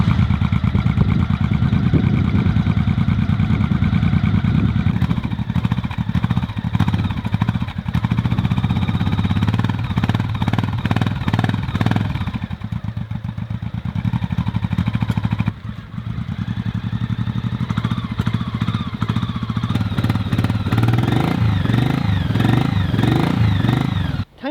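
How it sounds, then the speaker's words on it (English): A 1985 Honda Shadow 700 motorcycle engine starts and runs steadily for the whole stretch, a close, loud V-twin rumble with brief revs and a settling idle, no talk over it. "Let's go ahead and start the bike."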